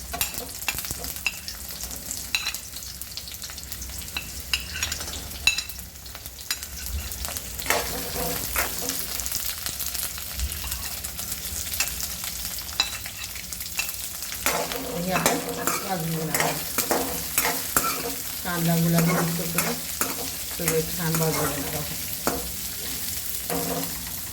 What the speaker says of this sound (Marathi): कांदा खोबरं शेंगदाणे तीळ आपण हे भाजून घेणार आहोत थोडंसं तेल घालून